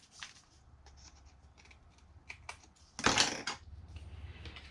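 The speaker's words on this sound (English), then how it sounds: "now I can trim off the edges." Paper edges being trimmed on a small handmade mini envelope for a note card: light scrapes and ticks close up, then a louder burst of cutting near the end, with no talk.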